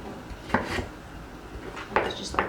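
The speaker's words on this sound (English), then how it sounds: "So I'm gonna go ahead now, chop that up." Food being chopped in a home kitchen, a few sharp knife strikes against a board, spaced irregularly and close, with faint room noise between them.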